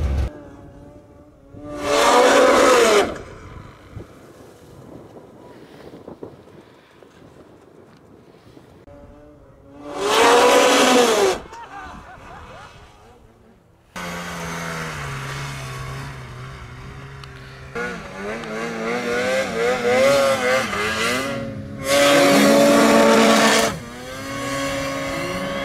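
A Polaris snowmobile engine revs hard in repeated loud bursts, rising and falling between quieter idling stretches, close to the listener with no talk.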